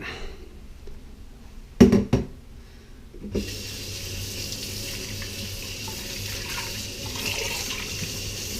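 Water runs steadily from a kitchen sink tap while something is rinsed off, a continuous splashing stream that starts after a couple of sharp knocks and carries on at moderate level.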